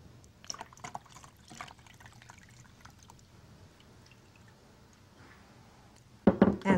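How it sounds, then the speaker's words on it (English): Water runs over tomato seeds in a strainer, with faint scattered clicks and drips at first and then a sudden louder gush of running water at the end, close by. "rinse them with some water,"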